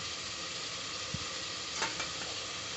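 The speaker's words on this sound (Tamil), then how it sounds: "அதையும் மிக்ஸ் பண்ணி அதையும் நல்லா வதக்கி விட்டுக்கோங்க." Onion, curry leaves and chopped tomato sautéing in a pan for a kudal kuzhambu curry, a dense steady sizzle with a few soft scrapes of stirring.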